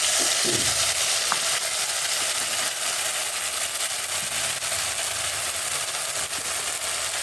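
A spice paste of ginger, green chili, coriander, cumin and nuts fries in hot oil for potol curry, a steady close sizzle with occasional stirring scrapes and no talking.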